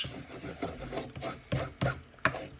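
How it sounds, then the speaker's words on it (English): An X-Acto hobby blade rubbed across a sharpening surface to take off burrs, a few short close rasping swipes at an uneven pace, quiet between strokes, without speech. "Swipe it on here a couple times. Take the burrs off."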